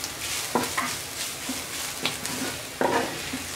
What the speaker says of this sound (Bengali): এখন আমি লবণ দিয়ে দিচ্ছি পরিমাণ মতো, হালকা নেড়ে ছেড়ে